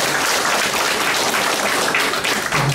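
A crowd applauds loudly and steadily, a dense wash of many hands clapping close by without pause.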